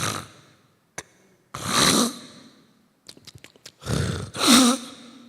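A church preacher vocally imitates snoring during a sermon, giving two drawn-out, raspy snore-like breaths with short snorting sounds between them, close and loud with no other talk.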